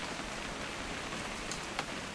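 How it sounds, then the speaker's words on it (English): Steady rain in the video game What Remains of Edith Finch, a dense continuous hiss of falling drops with no pauses, moderately quiet and heard alone. "It's gonna rain the whole weekend"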